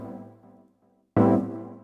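Resampled deep house chord with vinyl noise, wobble, distortion and reverb: a soft sustained chord fading to near silence, then a sudden loud, bright, distorted chord stab that decays slowly.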